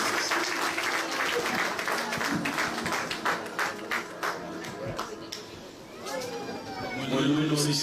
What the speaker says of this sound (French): Tout le monde va avoir d'abord pas applaudir le Seigneur